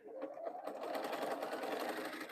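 A sewing machine stitches the final seam joining quilt fabric pieces, a steady close whirring hum of rapid needle strokes running without a break.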